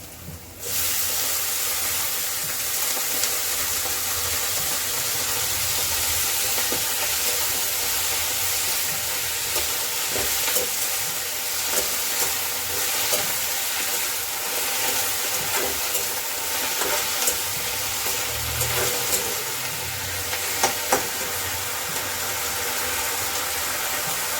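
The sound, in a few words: washed fenugreek leaves (methi) added to the pan, frying and stirred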